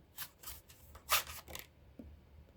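An oracle card deck is shuffled by hand close up, a few quick riffling bursts of crisp card flutter separated by short pauses, quiet and with no talking over it.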